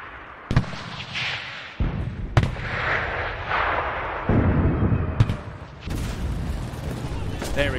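Gunfire in the shooter Enlisted: several sharp, loud shots at irregular intervals, each a sudden broadband crack with a short tail, over a busy battle din and under intermittent talk.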